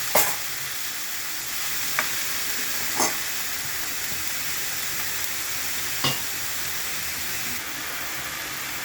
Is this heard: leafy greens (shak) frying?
yes